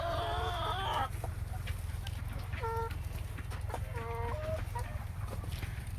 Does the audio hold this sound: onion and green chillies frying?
no